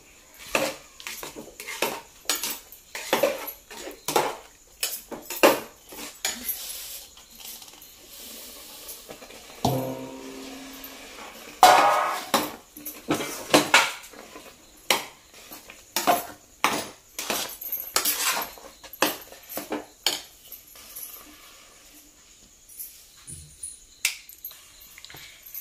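A spoon stirs food in a pot for a Malvani Konkan dhondas, giving a long run of irregular metallic clinks and scrapes, close and fairly loud, with short pauses between bursts.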